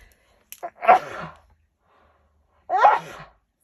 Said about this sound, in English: It's going to make me sneeze.